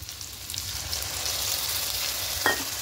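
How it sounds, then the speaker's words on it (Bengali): Spice paste of ground masala mixed with water goes into a hot pan for a pomfret yogurt fish curry, giving a steady close sizzle with a brief scrape near the end. "গুঁড়ো মশলা দিয়ে জল দিয়ে গুলে রেখেছিলাম, ওই গোলাটা এখানে দিয়ে দেবো"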